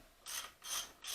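A wrench ratchets a 22 mm axle nut loose to free the front wheel of a motocross bike, giving three quick bursts of close, crisp clicking with short pauses in between.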